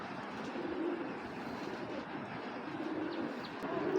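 Many pigeons coo in a dense, continuous low murmur, with soft overlapping calls and a busy background hum throughout.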